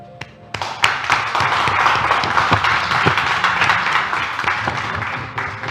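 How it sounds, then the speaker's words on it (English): An audience at a talk-show taping on empowerment and leadership breaks into sustained applause, dense and steady clapping that swells quickly and carries on for several seconds with a few sharper claps standing out. "So please give a round of applause to Aanchal."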